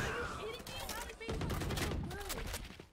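Rapid gunfire from a weapon in the tactical shooter Valorant, a dense burst of shots running through the whole stretch, mixed with game effects and faint voices underneath.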